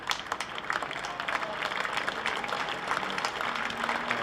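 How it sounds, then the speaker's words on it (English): Steady applause from a cricket crowd at the Essex county ground during a County Championship match, a continuous mid-level patter of clapping with no voices over it. "Loud applause here at the county ground."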